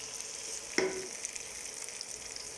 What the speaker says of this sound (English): So you let that fry for a few minutes, 2-3 minutes